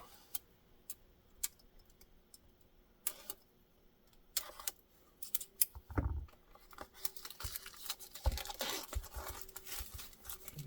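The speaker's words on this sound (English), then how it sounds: "let's go ahead and pop the box open and take a look together here" An Olight Javelot flashlight box is being opened, with sparse clicks and taps at first, then a busier stretch of crinkling and tearing as plastic wrap is pulled off, close and fairly quiet.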